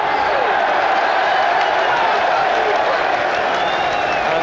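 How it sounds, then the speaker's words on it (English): Football crowd in the stadium at a Newcastle United match against Southampton gives scattered, sarcastic applause after a refereeing decision, a steady wash of clapping and crowd noise heard at a distance. "And some sarcastic applause, and players, fans on their feet following that decision"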